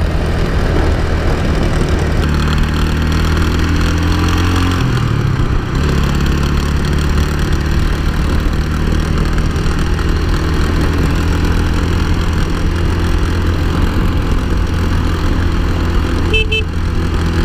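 A motorcycle engine idles loudly and steadily, a close, continuous rumbling drone with no talking.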